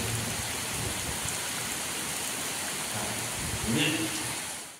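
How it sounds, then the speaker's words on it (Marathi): Rain falls steadily with strong wind at night on a Konkan creek, a constant close hiss that swells briefly with a low rumble before fading out. "थोडाफार पाऊस चालू झाला आहे आणि वारासुद्धा जोरदार सुटला आहे"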